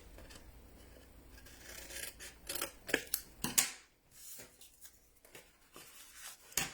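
Scissors cut through a cardboard chocolate box, giving several close, crisp snips and rasping slices in uneven bursts, followed by a brief pause and a final snip.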